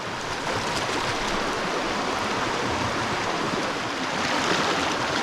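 Swamp water from Mallory Swamp in Lafayette County pours along a knee-deep stream on the Nature Coast Trail, a steady, full rushing wash close by with no voices.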